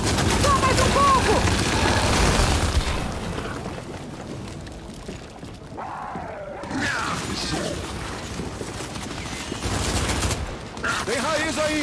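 Heavy gunfire from the video game Gears 5, with sustained bursts of rapid shots and crashing impacts that rise and fall amid dense battle noise.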